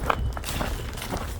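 Footsteps crunching uphill through snow in crampons, a steady series of close, regular steps with sharp bites into the snow.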